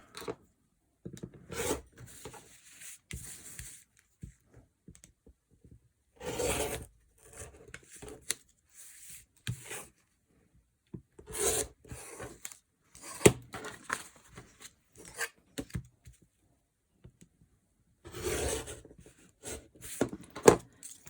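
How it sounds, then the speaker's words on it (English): Scissors or a rotary cutter trim excess fabric around a Christmas-themed quilt block, giving short rasping cuts in scattered bursts with pauses between them, close and fairly quiet, with no talking. "all that remains to be done is to trim off around the block."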